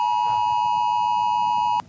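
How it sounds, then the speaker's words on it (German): Austrian AT-Alert mobile phone warning tone: a loud, steady electronic beep holding one pitch for nearly two seconds before cutting off abruptly, with no talking. "Mit diesem Ton landen nach einer mehrwöchigen Testphase nun Warnhinweise direkt auf dem Handy."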